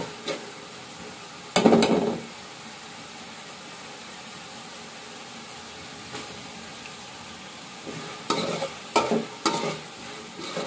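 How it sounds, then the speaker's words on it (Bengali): Chilies and tomatoes being stirred and sautéed in a pot for bhuna khichuri, a steady sizzle with a few loud scraping stirs near the start and a cluster of stirring strokes toward the end. "সবকিছু ভালোভাবে আগে কষিয়ে নিতে হবে।"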